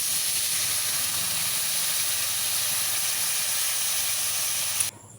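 Water poured into a hot pan of fish roe and hog plum curry sets off a loud, steady steaming hiss that lasts about five seconds and then cuts off abruptly.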